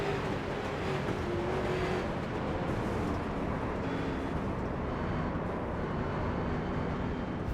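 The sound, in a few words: race car on board through a wreck, IROC series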